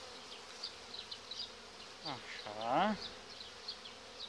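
Honey bees buzz inside a hive during a March inspection, a soft continuous hum with scattered higher whines, while a voice speaks briefly partway through.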